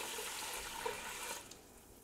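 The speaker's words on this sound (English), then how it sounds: "Now we got the water. Pour that over in there." Water is poured into the pot of a Ninja Foodi XL pressure cooker steam fryer, a soft, close splashing trickle lasting about a second and a half before tapering off, quiet with no talk.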